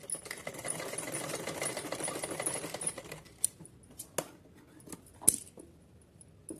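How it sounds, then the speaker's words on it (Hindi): A sewing machine stitches a cord onto a small Kanha ji dress, a fast close whirring run that stops, followed by a few quiet clicks and taps of fabric handling. "अब यहाँ आके ये वाली डोरी हमें यहीं तक सिलनी है।"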